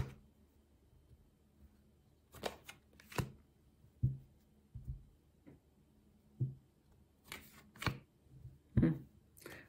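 Tarot cards being shuffled by hand for a reading: soft, close riffling and clacking bursts that come in irregular clusters against a quiet background, with no talking.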